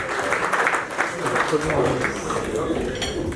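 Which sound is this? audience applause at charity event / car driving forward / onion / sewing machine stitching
audience applause at charity event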